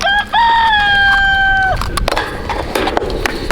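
A rooster crows loudly up close in one long drawn-out call, followed by scattered clucks and scratchy rustling from nearby chickens.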